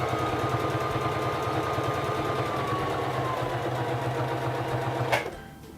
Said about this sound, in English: Bring down your presser foot and begin sewing.